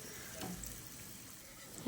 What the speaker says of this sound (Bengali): বাকি বড়াগুলোও একইভাবে ভেজে নেওয়া হবে।